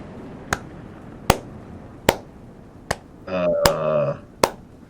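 Six sharp, isolated claps spaced about a second apart, each crisp and close, with a brief burst of voice or tonal sound in between.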